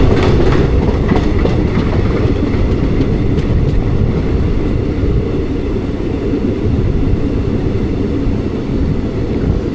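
The 16344 Amrita Express running between Palakkad Town and Thiruvananthapuram, heard from inside as a loud, steady rumble with rhythmic clickety-clack of the wheels over rail joints.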